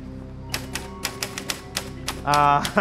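Keys clatter on a keyboard in quick irregular taps, close and clear, followed by a short burst of voice at the end.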